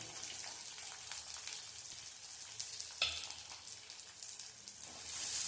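Steady sizzling and crackling of shallots frying in hot oil, with an occasional sharper pop and stir, continuous and close.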